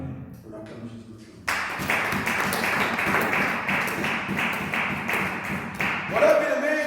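A church congregation bursts into clapping and cheering to acclaim Jesus after a short spoken line, the applause steady and fairly loud with dense irregular claps through to the end.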